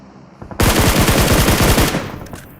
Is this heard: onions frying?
no